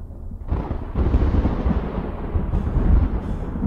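Deep thunder from a storm in a horror game, a broad low rumble that swells and rolls continuously, with heavier cracks at about half a second and one second and a loud surge near three seconds.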